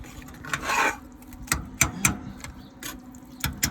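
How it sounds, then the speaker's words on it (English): A spoon scrapes and rubs through baked beans in a pan sitting on a Traeger smoker while a whole chicken cooks, giving a few soft scraping strokes followed by sparse light clinks against the metal. "Give the beans a little stir."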